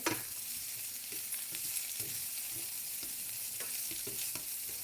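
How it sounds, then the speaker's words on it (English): Mushrooms blanch in seasoned oil in a pan, giving a steady, quiet sizzle with scattered soft stirring clicks and scrapes throughout. No one talks. "So you just want to just blanch them with the seasoned oil."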